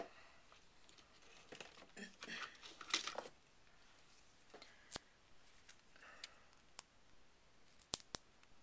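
Scissors snip through paper while cutting out a small paper flower for a handmade card: faint, sparse clicks and crinkles spread over several seconds in a quiet room, with brief soft rustles between cuts.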